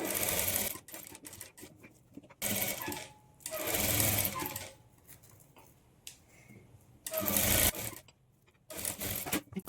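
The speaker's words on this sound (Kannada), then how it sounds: "ಒಳಗಡೆಗೆ ಫೋಲ್ಡ್ ಮಾಡಿಕೊಂಡು ಸ್ಟಿಚ್ ಮಾಡಿಕೊಳ್ಬೇಕು" An electric sewing machine stitches a boat-neck net blouse in several loud, close runs of rapid mechanical whirring, separated by quieter pauses with faint handling sounds.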